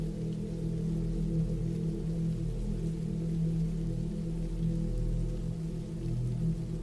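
Steady rain falls in a dense, even hiss with a low rumbling undertone, continuous and unbroken, with no voices or other sounds over it.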